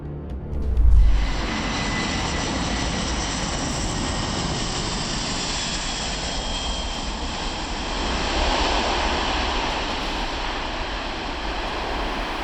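A loud, continuous engine roar from a small plane passing close by, beginning with a low thump and holding a broad, rushing drone throughout.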